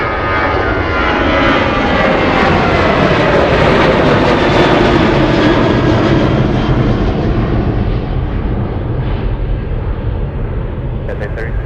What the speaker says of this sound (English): Alaska Airlines, Alaska 332 flying to Seattle, Washington, a 737-700